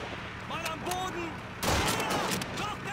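Gunfire in the Call of Duty 2 video game: bursts of shots under excited talking, with a louder volley of fire at mid-clip.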